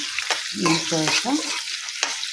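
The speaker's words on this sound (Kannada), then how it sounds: "ಪನ್ನೀರ್ ಹಾಕೊಂತ ಇದ್ದೀನಿ ಚೆನ್ನಾಗಿ ರೇಸ್ಟ್ ಮಾಡ್ಕೋಬೇಕು" Paneer roasts in a hot pan for homemade palak paneer, with soft sizzling and a few quick scraping stirs close by.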